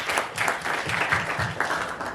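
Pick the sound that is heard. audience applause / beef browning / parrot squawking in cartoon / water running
audience applause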